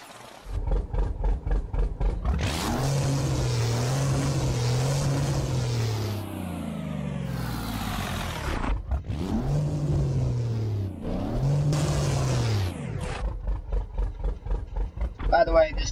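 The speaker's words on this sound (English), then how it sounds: "You have a couple different engines, so we're gonna explore sounds." A Mack B61 truck engine in a video game revs hard in several long rising and falling roars, loud and close, easing to idle rumbles between pulls, with a voice speaking over parts of it.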